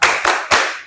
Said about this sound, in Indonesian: Coba tepuk Asmaul Husna